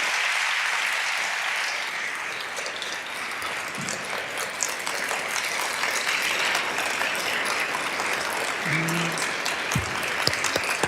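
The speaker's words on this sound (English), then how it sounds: "Let's give them both a round of applause." A large audience at the 2024 New York State of the State address gives prolonged applause, a broad, steady roar of clapping from a big hall lasting about eleven seconds.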